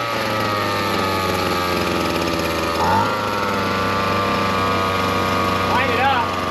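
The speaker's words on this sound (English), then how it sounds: "Custom weed whacker drill" A custom drill powered by a small two-stroke weed whacker engine drones loudly and steadily nearby, briefly revving up twice, with voices talking over the running motor.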